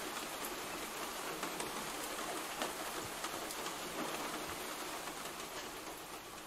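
Rain ambience plays as backdrop to a tabletop role-playing game: a steady, even hiss of rainfall with scattered drop ticks and a low rumble like distant thunder, quiet and continuous with no talking over it.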